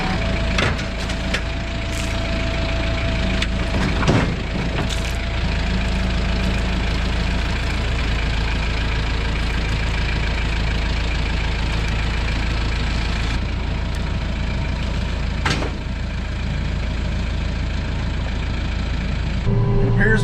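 Tractor engine with a mower attached idling steadily and loudly up close, a constant low drone with occasional sharp clicks and knocks over the top.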